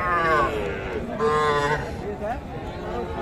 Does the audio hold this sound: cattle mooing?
yes